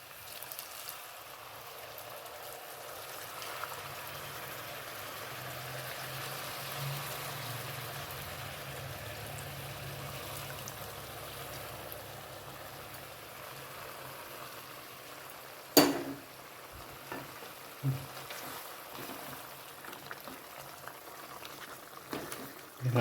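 Coconut milk poured into a Kuttanad-style duck roast with black pepper, a steady low bubbling simmer under a soft background hiss, with a few sharper clinks and stirring knocks toward the end.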